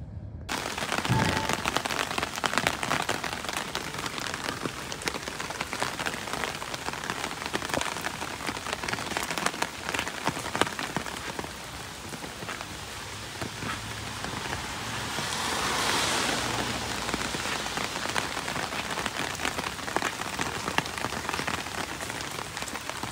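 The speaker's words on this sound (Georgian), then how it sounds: "ძალიან წვიმს." Heavy rain falls hard and steadily on surfaces, a dense, loud patter of drops that continues without pause, swelling briefly partway through.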